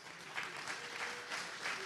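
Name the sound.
audience applause at an AA meeting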